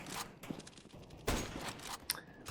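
Gunfire in the CS:GO video game, heard as a few sharp, noisy cracks spread over a couple of seconds among rustling and scraping movement sounds.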